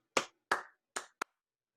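Four sharp hand claps struck as percussion, spaced unevenly with the last one shortest and crispest, close and clear against silence.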